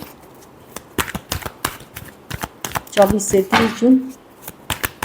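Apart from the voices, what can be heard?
shuffling tarot cards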